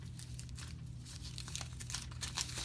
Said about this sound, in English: You want to crumple it and twist.